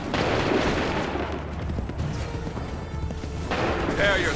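Musket volley fire in Assassin's Creed III from 2012: loud, dense gunfire and booming reports run the whole time over battle noise, with a fresh burst near the end.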